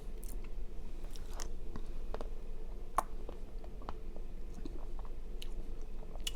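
Close, wet chewing of Dairy Queen peanut butter ice cream, with soft crunchy bites and smacking repeating steadily through a quiet steady background, no talking.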